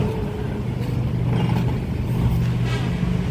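An ANS Sangsaka executive-class intercity bus rolls into Pondok Pinang terminal, a heavy low engine rumble close by with brief hissing bursts, traffic noise around it.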